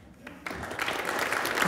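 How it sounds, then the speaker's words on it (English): An audience starts clapping for an orchestra in a classroom session, first near silence with a brief voice, then applause swells in and holds steady. "We might give the orchestra a clap."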